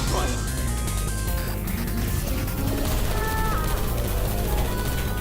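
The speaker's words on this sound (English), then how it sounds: "look out for gunfire." Gunfire in the Portal 2 escape sequence, a dense continuous barrage of shots and crashing impacts that fills the clip loudly alongside game music.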